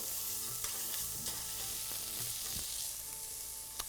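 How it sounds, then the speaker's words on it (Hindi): Fenugreek leaves and peas roast in a pan with a constant close sizzle and scattered soft scraping from stirring, no speech. "अब मटर, और ये मेथी और मटर की हो गई भुनाई"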